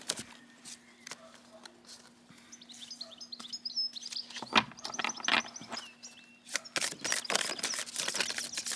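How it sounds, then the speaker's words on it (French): A small kinglet or wren chirps from a tree nearby, quick high tweets coming in short bursts over a low steady hum, with other scattered clicks and rustles around it. "j'ai un petit roitelet qui est sur l'arbre devant moi"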